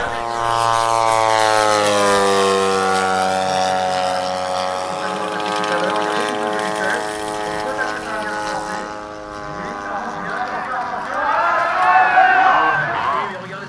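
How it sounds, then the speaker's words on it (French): A 3-metre-span model aircraft powered by a 3W 120 cc engine drones loudly overhead at an air meeting at La Ferté-Alais, its buzzing pitch sliding as it passes and lands, while a commentator speaks over it. "un modèle de 3 mètres d'envergure qui est motorisé lui aussi par un 3W 120 cm3"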